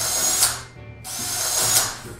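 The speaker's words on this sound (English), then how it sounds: "you're gonna drill it from the back." A power drill drilling wood whirs in two bursts, spinning up loud, dropping briefly to near silence, then biting in again, close by with a high whine.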